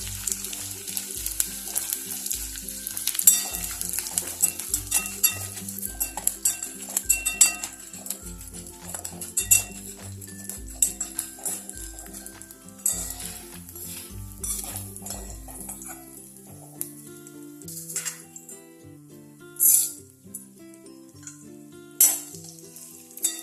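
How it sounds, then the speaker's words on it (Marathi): Edible gum frying in ghee, after raisins were lightly roasted in the same ghee, makes a continuous bright sizzle with occasional clinks of a spoon against the pan, heard beneath steady background music. "आता आपण या तुपावरती हा डिंक तळून घेणार आहे"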